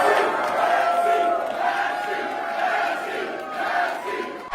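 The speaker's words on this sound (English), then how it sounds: "the Massey crowd is roaring" A campaign event crowd roars in a sustained wall of shouting and cheering, swelling and dipping but never letting up, loud and close.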